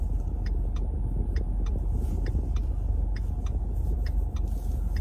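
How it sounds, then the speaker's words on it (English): A red 2015 Ford Mustang EcoBoost drives along with a steady low road rumble and engine drone, with faint repeated clicks and ticks above it and no talking. "Driving this red Mustang right here"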